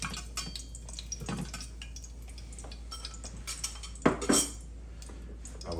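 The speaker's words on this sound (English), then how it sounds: "I'm going to go ahead and remove the lardons" A utensil scrapes and clinks against a pan while lifting out bacon lardons and reserving the fat, with soft metallic taps scattered through quiet background and a sharper cluster of clatter near the end.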